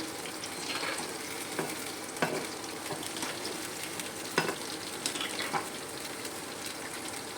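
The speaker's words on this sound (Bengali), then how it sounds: "এটাকে এবারে ভালোভাবে উল্টে পাল্টে ভেজে নেব।" Soy chili pakoras frying over a low flame in a pan, sizzling in a steady hiss broken by a few sharp scrapes and clinks as they are turned, with no talking.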